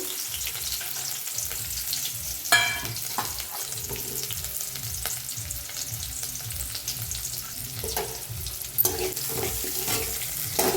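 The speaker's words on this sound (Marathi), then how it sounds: "तेल चांगलं गरम झाले त्याच्यातच कांदा हिरवी मिरची आणि लसूण चेचलेला भाजून घेऊया" Onion, green chilli and crushed garlic fry in hot oil in a kadhai, a steady crackling sizzle running throughout with occasional louder pops and stirring clatters.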